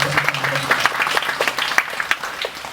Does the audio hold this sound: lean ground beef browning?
no